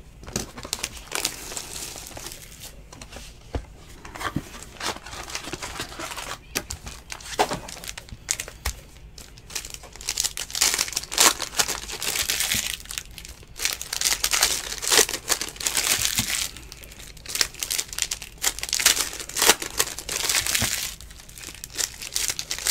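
Packs of 2019 Contenders Draft Picks football trading cards are ripped open one after another, giving continuous crinkling wrapper foil and sharp tearing bursts close to the microphone with no talking.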